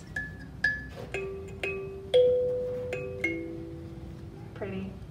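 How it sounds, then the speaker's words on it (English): Kalimba finger piano in a school music room, plucked notes ringing one after another in a slow irregular melody, each note chiming and decaying, fairly close and soft over light room noise. "This is called a finger piano or a kalimba."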